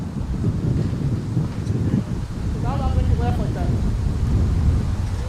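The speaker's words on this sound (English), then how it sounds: "Beautiful day for baseball, just very windy." Strong wind buffets the microphone at an outdoor 17U college baseball game, a constant roaring rush with a faint voice briefly rising through it.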